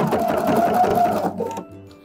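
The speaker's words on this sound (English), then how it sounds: "I'm gonna top stitch it down" Leather coat being top stitched on a sewing machine, a loud continuous motor hum that winds down and stops near the end, with no talk over it.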